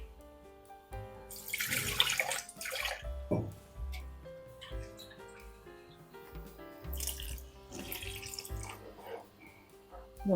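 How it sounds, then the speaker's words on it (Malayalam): Water is poured from a tap into a pan of paneer peas masala, giving intermittent splashing and dripping bursts at moderate loudness with quiet gaps between pours. "കുറച്ചും കൂടെ വെള്ളം വേണം."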